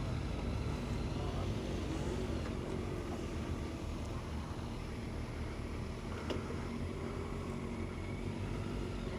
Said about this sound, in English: this is the 2013 Kawasaki Concours 1400